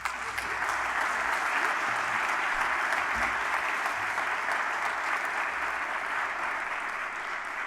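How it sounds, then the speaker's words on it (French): An audience at an evening awards ceremony for mayors in the Pays de la Loire applauds steadily, a dense sustained patter of many hands from start to finish. "bravo à vous, on peut l'applaudir"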